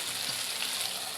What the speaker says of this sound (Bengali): যেটা কত সুন্দর করে ভাজা হয়ে যাচ্ছে